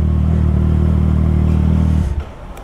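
A Triumph Street Triple 765RS motorcycle being parked at a service centre: the engine idles with a steady, low drone for about two seconds, then cuts off abruptly, leaving faint background noise.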